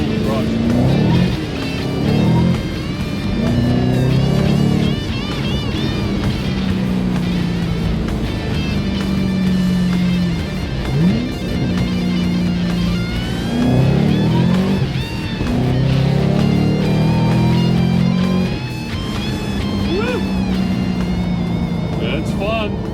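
A 2011 Shelby GT500 fitted with a Whipple supercharger, tuned to 750 hp, revving and accelerating repeatedly, its loud engine rising and falling in near, sustained pulls with gear changes and a supercharger whine over the top.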